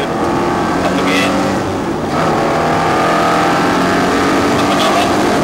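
A car accelerates on a race track during a track day at Bruntingthorpe, its engine note rising loud and steady, with a brief dip near two seconds before climbing again.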